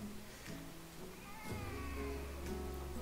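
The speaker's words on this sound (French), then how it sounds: "Il dirait qu'ils miaulent derrière mon chat." Animals in the Planet Zoo video game meow in a short series of drawn-out, wavering cries, several calls overlapping across three seconds at moderate volume, with no one speaking.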